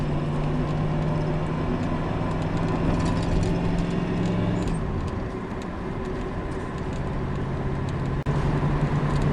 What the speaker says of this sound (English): Got a train. Gotta wait for this train.